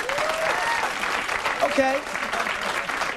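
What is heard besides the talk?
audience clapping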